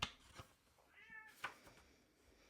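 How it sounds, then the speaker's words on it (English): A pet cat named Cheese meows indoors, begging for wet food: a single rising, drawn-out meow in the middle, faint and fairly close, with a couple of small clicks and knocks around it. "If you guys can hear that meowing, that's Cheese"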